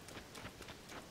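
Rain falls steadily in The Legend of Zelda: Tears of the Kingdom, a soft continuous patter with faint rhythmic swells, heard alone without talk.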